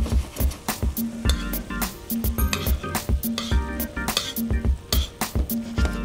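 Cream pepper sauce for filet au poivre bubbles and sizzles in a pan, with rhythmic stirring and spoon scrapes against the pan repeating steadily and close.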